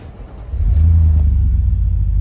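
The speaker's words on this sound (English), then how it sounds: "We're about to warm the car up for the first time, ready for the trip." A car engine starts and settles into a steady low rumble as it warms up on a freezing cold morning, loud and close, with no voices.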